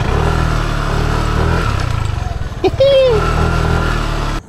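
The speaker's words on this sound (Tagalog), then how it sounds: "tatlong motor kami dito" Three motorcycles idle together at an outdoor fishing spot in Barangay Putatan, a steady, loud, low engine drone that runs throughout, with a brief voice near the middle.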